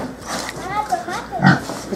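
In a farmyard in Cajamarca, Peru, a pig lets out a brief, close grunt about two-thirds of the way through, amid a voice and light household noise.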